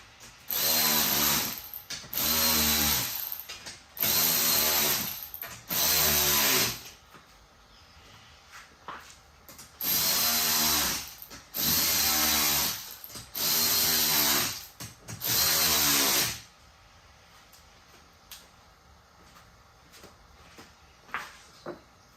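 A power tool drives 8mm self-tapping bolts into the factory holes of a support bracket on a Tyson Trail Jack Knife sofa, in about six short whirring bursts separated by pauses, then faint handling clatter.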